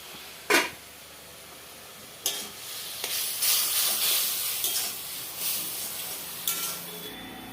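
A pot lid clanks open on a sizzling curry of rohu fish head and spinach, giving a few sharp metal knocks and then a close, steady frying hiss with stirring.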